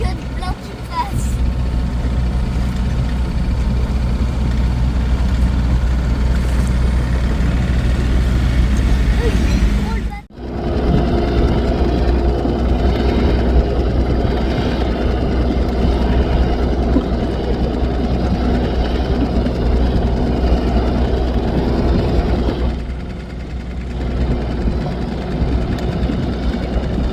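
A large boat engine idles with a loud, steady, low rumble that runs almost without a break, briefly dipping once, while people chat nearby.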